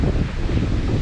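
Strong wind roars across a boat building site, a steady loud blustery rush buffeting the microphone with no break for the whole second, no voices heard over it.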